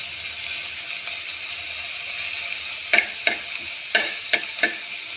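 Ingredients being mixed with a utensil in a frying pan over a steady sizzle, with several sharp scraping and clinking strikes against the pan in the latter half.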